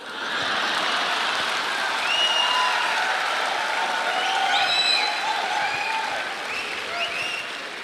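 Steady applause from a large audience, sustained for several seconds with a few whistles and cheers rising above the clapping.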